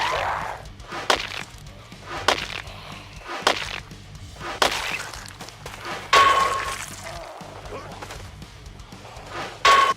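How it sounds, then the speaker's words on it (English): Half-Life 1 crowbar smash and crunch effects from a Project Zomboid mod, repeated sharp impact hits landing every second or so at close range, loud and percussive. "Between the meaty crunches of the crowbars to the satisfying smashes when you ground pound a zombie in the face"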